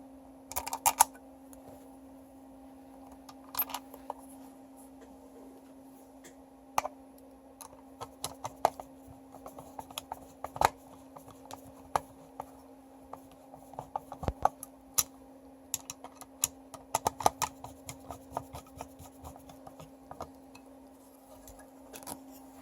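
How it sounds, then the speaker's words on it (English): Two screws being fitted into a Whirlpool dryer timer during repair, scattered faint clicks and small metallic taps at irregular intervals over a low steady hum, no voices. "And then you just want to put your two screws in."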